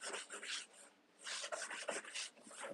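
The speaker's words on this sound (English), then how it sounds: "Now I'm going through with kind of a medium firmness bristle brush." A medium-firmness bristle brush rubs and rasps steadily across a surface in close, continuous strokes, with a short pause midway before the scrubbing resumes.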